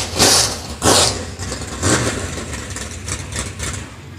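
A dirt track race car engine idles at Central Missouri Speedway right after a race, close and loud, with two sharp blipping revs at the start and then a steady rough rumble that fades slightly.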